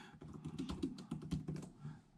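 Fingers type on the keyboard of a Lenovo Yoga C630 2-in-1 laptop, a quick, close run of soft, lightly clicky keystrokes.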